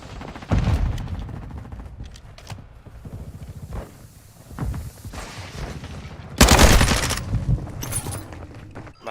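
Gunfire in a Modern Warfare shooter: loud bursts of rapid shots, some clustered in quick volleys and one heavy burst late on, separated by quieter stretches with faint footsteps.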